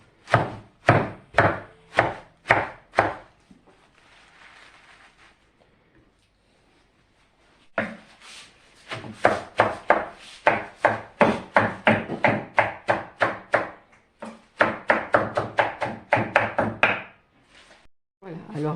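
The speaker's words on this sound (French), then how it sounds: "je les hache avec ce couteau qui est très très bien" A knife coarsely chopping spinach on a board for a flan, with rapid rhythmic thunking bursts, a quiet pause in the middle, then more steady close chopping.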